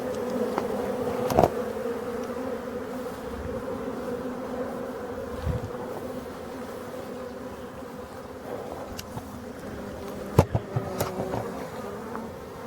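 Honeybees buzz in a steady, continuous drone around a busy apiary in Brittany on a sunny March day, with a few louder individual bees passing close by.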